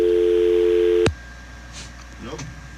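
A steady, continuous telephone line tone plays during trouble with the phone line on a wrestling talk show, then cuts off abruptly, leaving quiet room noise and faint voices.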